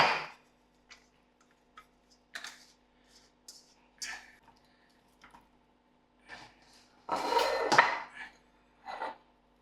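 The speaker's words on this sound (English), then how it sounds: "So we're going to start off by throwing in all the vegetables into our baking tray." Vegetables are dropped into a baking tray as scattered soft thuds and light knocks at irregular intervals, close and quiet, with a longer rustling tumble near the end.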